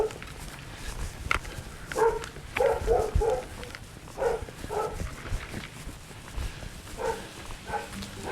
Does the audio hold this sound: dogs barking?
yes